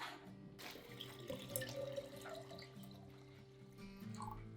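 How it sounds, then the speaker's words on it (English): Water poured into a jar of fermenting pear kvass, a quiet close trickle and gurgle lasting a few seconds with soft handling sounds, no talking. "Now we're just going to finish it off with water."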